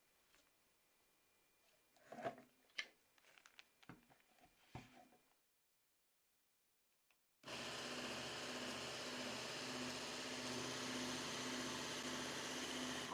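A homemade mini belt grinder starts after a pause and runs steadily at full speed, loud, dense and continuous, following some clattering handling knocks earlier on.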